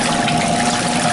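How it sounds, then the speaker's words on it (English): Steady churning water from a Laundry Alternative Superpop portable washer rinsing clothes on its 5-minute wash, a loud continuous sloshing rush with no breaks. "So let's do just the 5-minute wash to show you the action. I'm just rinsing the clothes."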